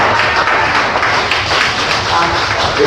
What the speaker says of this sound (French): Acclamez le Seigneur pour les deux frères